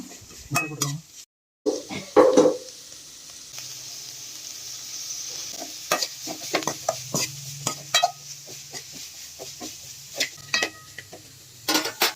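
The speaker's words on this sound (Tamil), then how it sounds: "இப்போ இது எல்லாத்தையும் ஒன்றா சேர்த்து வதக்கி விட்டுக்கலாம்." Chicken fried rice with cabbage is stir-fried in a pan, with a spatula clattering and scraping against the metal in irregular strokes over a soft, steady sizzle.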